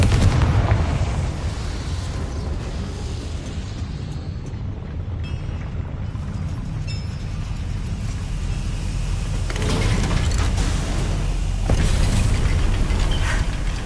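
A Confringo spell from a Hogwarts wizarding video game erupts in a sustained, rumbling fiery blast, with booming crackles swelling again toward the end; no voices.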